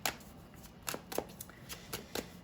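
A deck of tarot cards is shuffled by hand close to the microphone, giving repeated short riffling bursts in an uneven rhythm with soft pauses between them, and no voice over them.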